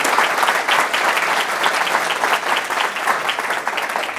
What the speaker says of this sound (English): Let's round of applause for this amazing panel.